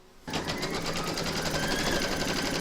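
An embroidery machine stitches the first placement-outline round of an in-the-hoop stacked snowman through two layers of wash-away stabiliser, a steady close whirring hum with a fast needle pulse that starts abruptly and runs unbroken to the end.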